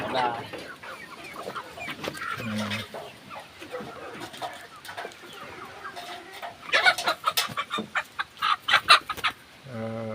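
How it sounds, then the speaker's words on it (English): Frizzle feathered chickens cluck and call in short bursts, growing busier and louder toward the end, with quiet talk underneath at times. "Now that's a frizzled feathered chicken."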